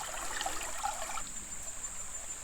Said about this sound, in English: You can also just let gravity do it. It works a little bit slower, but it still trickles out.